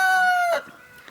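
A rooster in a chicken coop crows once, close and loud, with a strained tonal call that ends abruptly, followed by faint background clucking.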